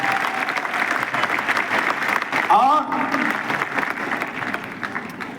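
Dense applause from an audience at a Hindi-language event fills the whole stretch, steady and fairly loud, with a voice speaking over it briefly.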